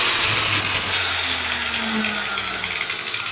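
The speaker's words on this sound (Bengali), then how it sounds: "তাহলে আমরা মেশিনটা একটু লাইন দিয়ে দেখবো যে আমাদের মেশিন কীরকম চলে" A machine switched on through a digital switch runs with a steady loud motor hum and whine close by, holding constant throughout with a slowly falling tone.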